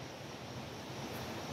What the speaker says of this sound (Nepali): खोला कराइरहेछ